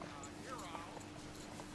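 A horse's hooves clip-clop steadily in Disney Dreamlight Valley, a soft, even rhythm of hoofbeats mixed into a continuous background of game ambience.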